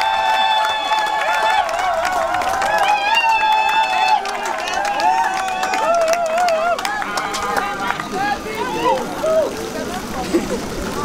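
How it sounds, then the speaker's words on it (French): Wedding guests at a Bahá'í marriage ceremony applaud and ululate while the couple's documents are signed, with a steady crowd wash and high trilling ululation running through, loud and continuous, with voices talking. "on va accompagner par vos youyou et vos applaudissements"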